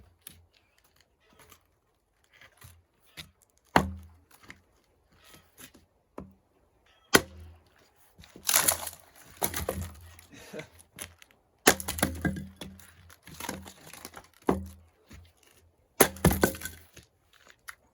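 A heavy hatchet with a half-inch bit chops wood outdoors in a series of sharp, irregular cracks and thuds. Some strikes ring out loud and close, separated by quiet pauses.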